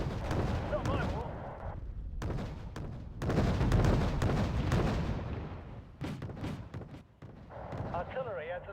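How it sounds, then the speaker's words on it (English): Booming artillery fire and gunfire from the war strategy game Wargame Red Dragon, repeated heavy blasts and rumbling explosions in bursts, with voices speaking over parts of it. "Artillery adds a little plus"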